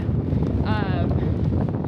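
Wind buffets the microphone with a constant low roar at Great Sand Dunes National Park, and a brief whistling tone rises and falls partway through.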